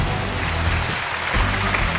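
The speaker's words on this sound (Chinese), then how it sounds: "掌声有请这一对，有请。" Studio audience applauding on a Chinese relationship-mediation TV show as a young couple is called to the stage, a steady dense clapping wash filling the room throughout.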